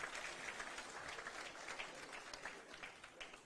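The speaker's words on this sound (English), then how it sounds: "A hand of applause." An audience at a formal agreement signing ceremony at KICC in Kenya gives sustained applause, a dense, faint patter of many hands that continues evenly with no clear voices.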